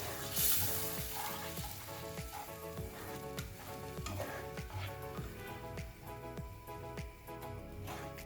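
Ground spinach sizzles in hot oil for a palak egg curry, a loud continuous frying hiss broken by the regular scrape of a spoon stirring the pan, close up and with no talking.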